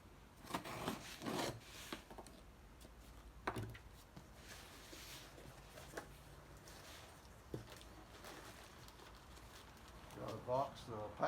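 A cardboard box of car engine parts is opened, giving faint, intermittent rubbing, scraping and tearing sounds, with a few sharper rustles, in a quiet room with a brief voice near the end.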